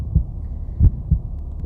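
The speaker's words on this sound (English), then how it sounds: "my heart beating harshly against the cage of its ribs" Low, muffled heartbeat thumps play as a sound effect during a scary story reading, three deep throbbing beats in a slow, steady rhythm, close and heavy, with no voice over them.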